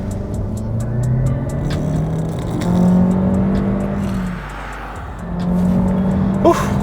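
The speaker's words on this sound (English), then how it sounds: "Foot to the ground, put this bad boy in sport," A 2022 Honda Civic Touring with a 1.5 liter engine, 158 horsepower and a CVT pulls hard in sport mode. The loud, steady engine drone rises and swells twice, dipping briefly between pulls.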